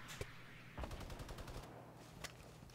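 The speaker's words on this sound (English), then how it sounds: "I think he's firing back on me" Rapid automatic gunfire sounds in the Fortnite mobile game, a fast, fairly faint series of shots over a constant noisy background.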